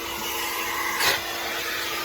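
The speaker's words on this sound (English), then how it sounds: "we're gonna go ahead and vacuum the back" A vacuum cleaner runs inside a Nissan Titan pickup's interior, a steady close whine and rush that holds even throughout, with a brief louder swell midway as the nozzle shifts.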